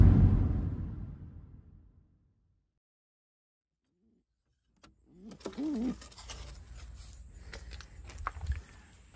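A pet pigeon coos a few times at close range after a long quiet pause, with light shuffling and movement noise around it and a loud fading rumble at the start.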